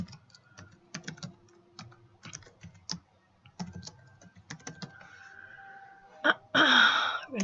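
A login name is typed on a computer keyboard in quick, irregular clusters of key clicks up close, ending with a louder burst of noise.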